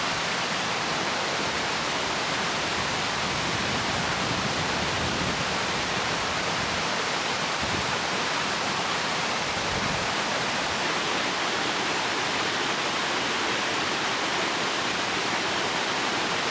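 A fast-flowing river swollen by heavy rain in a Scottish forest rushes as a constant, loud, broadband roar of water throughout, steady and close with no speech.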